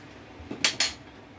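A metal spoon clinks twice against a bowl while jhal muri puffed rice is mixed with mustard oil and dried chilli, two quick bright taps over quiet room tone.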